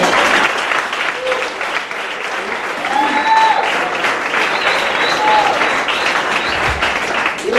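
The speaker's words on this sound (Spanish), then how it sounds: "denle palmas" Church congregation applauding during a sermon, a dense sustained wash of clapping filling the room for several seconds, with a voice briefly calling out over it.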